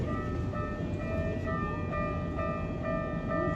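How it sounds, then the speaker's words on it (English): A fast train speeds past in Tokyo, Japan, with a loud, steady rushing rumble and a sustained metallic whine that holds throughout. "This fast ass train. It's about to speed by."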